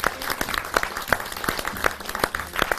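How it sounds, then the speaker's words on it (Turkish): Audience applause at a community gathering in Çerkeş, Çankırı, Turkey, as food is about to be served; steady clapping from a crowd runs throughout, dense and fairly close, with no talk over it. "Şimdiden afiyet olsun alkışlarla."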